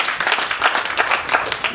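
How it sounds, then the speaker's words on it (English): Audience clapping in a seminar hall, a dense patter of many hands that runs steadily and fairly loud for under two seconds with no one speaking. "Clap for that person."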